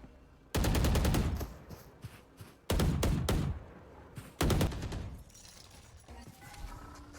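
Gunfire in an esports match, shooting through a wall: three loud bursts of rapid shots, each cutting off sharply, with quieter game sounds between them.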